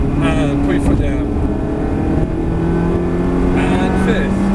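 Ferrari 360 Spider engine pulling hard under acceleration, a steady close rumble that rises in pitch, with a voice giving driving instructions over it.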